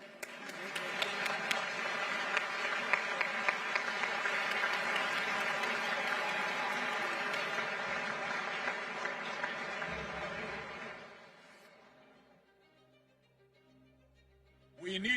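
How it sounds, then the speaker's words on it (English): Sustained applause from a large audience for three honoured guests at a political gathering, a broad even roar of clapping that holds for about ten seconds and then fades to near silence before a brief noise at the end. "Give a big applause to these three fighters for democracy."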